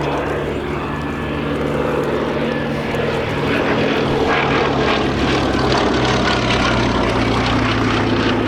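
A Westland Lysander propeller aircraft flies at an airshow, its loud, steady piston engine and propeller drone filling the air without pause, growing slightly stronger partway through as it passes close.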